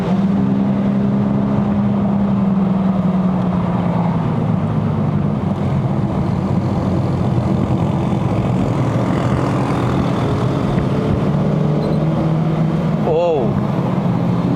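The 2.0-litre engine of a Ford Focus Sport+ drones steadily from inside the cabin on a mountain drive, its pitch dipping and shifting during a downshift. Road rumble runs underneath, and a brief voice is heard near the end.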